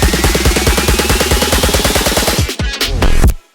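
Resampled donks from an electronic music drop pulse as fast, punchy, repeating bass plucks drenched in reverb during a build-up, then break into stuttering hits and a short washed-out tail.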